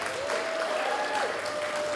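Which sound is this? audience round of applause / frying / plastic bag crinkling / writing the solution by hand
audience round of applause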